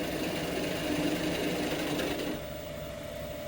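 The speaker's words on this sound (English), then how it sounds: "Switch to spindle gouge, small spindle gouge" Small spindle gouge cutting a small wooden cup spinning on a lathe, a steady droning hum with scraping texture that eases and quiets after a couple of seconds.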